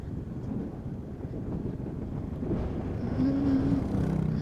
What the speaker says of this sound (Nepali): हावा फेरि उस्तै लागेको छ ढलाउला जत्तिकै हावा चलिरहेछ